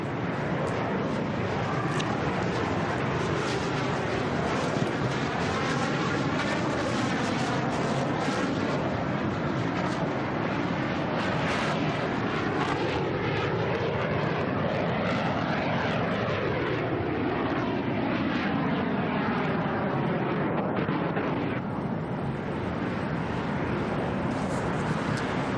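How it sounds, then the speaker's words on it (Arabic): Italian Aermacchi jet aircraft passing over a military parade along the Abu Dhabi corniche, a loud continuous roar that sweeps in pitch as the planes fly by. "طائرات الإرماكي الإيطالية والتي تتميز بأنها أفضل طائرات الاستعراضات في العالم"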